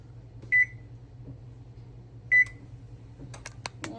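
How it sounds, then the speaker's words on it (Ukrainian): A kitchen oven is switched on with two separate electronic beeps, followed by a few quick clicks of the controls, crisp and close in an otherwise quiet room. "Я просто включаю вже духовку."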